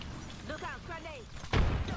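A grenade goes off in the Apex Legends battle royale shooter, a sudden loud blast landing late and rumbling on beneath voices of players talking over game noise.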